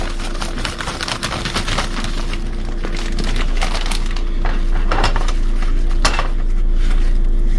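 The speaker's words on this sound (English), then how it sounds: "So now Johnny's gonna slowly mix in the marshmallows." Marshmallows being mixed into melted chocolate in a pot for no-bake church window cookies make close, repeated clattering and scraping strokes of a spoon against the pot, with crunchy squishing between them.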